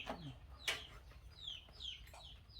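Chickens clucking near a rural home, a few short calls and squawks spread across the moment with a light bird chirp in the background, no talk.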